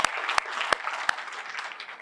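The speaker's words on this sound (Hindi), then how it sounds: "जोरदार तालियां इनके लिए." An audience at a Buddhist vihara gathering in Nandora, Amravati claps together in a steady patter of applause, moderately close, with a few sharper claps standing out.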